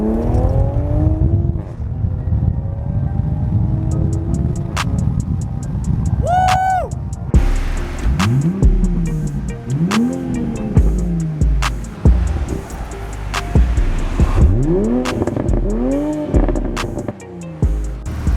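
A car at a Long Island meet drives along the road, its engine loud and near, rising and falling through several sweeping accelerations and gear changes, with brief sharp clicks and pops between them.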